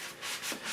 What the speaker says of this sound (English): For those areas, I will be using a sanding pad